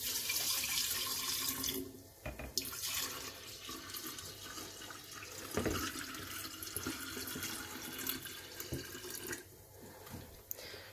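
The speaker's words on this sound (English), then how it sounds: "The next step of the process is to start adding cool water." Cool water pours from a tap into a kombucha jar, a continuous splashing rush that shifts in tone as the stream changes, with brief lulls and drips, close and moderately loud, no talking.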